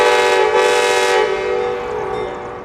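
An Amtrak train, number 91, at Raleigh station sounds a loud, sustained horn blast that fades into a steady rumble, with no voices.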